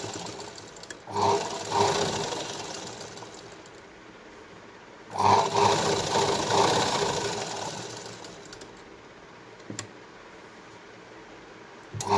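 A sewing machine stitches a double seam on a blouse in two long whirring bursts, each starting sharply and fading, separated by quiet pauses and a brief click near the end.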